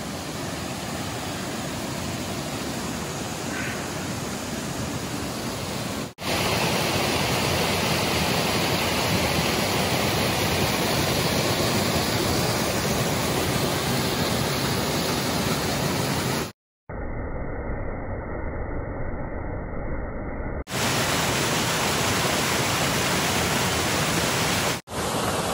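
Water pours steadily over a low waterfall and runs along a stream into a swimming hole beside the Appalachian Trail, a loud, constant rushing roar heard alone, with a few abrupt cuts and level changes.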